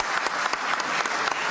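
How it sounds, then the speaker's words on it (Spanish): A short, brisk round of clapping fills a parliamentary chamber, many hands applauding together at close range without pause. "Un aplauso grande, ¿no es cierto?, a todo el Club de Adultos Mayor"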